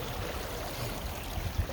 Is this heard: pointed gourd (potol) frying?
no